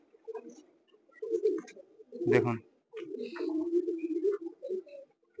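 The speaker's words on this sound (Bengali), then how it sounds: "এই দেখুন পায়রা দুটো দেখুন, একদম ওল্ড লাইনের গিরিবাস পায়রা" Two old-line red-veined Giribaz pigeons give soft, low rolling coos close by, with a brief word spoken between them.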